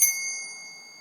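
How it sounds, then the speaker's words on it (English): A small bell used in traditional witchcraft rituals is struck once, giving a bright, clear ding with high ringing overtones that decays smoothly over about a second in a quiet room. "Use the bell in rituals of traditional witchcraft to summon"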